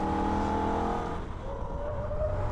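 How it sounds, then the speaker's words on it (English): A Holden VF Ute races around the Nürburgring, its engine holding a loud, sustained howl that drops in pitch, then climbs again as it pulls away, with no speech over it. "Car starts to slide, and get back on the throttle, run the car over the curb on the outside."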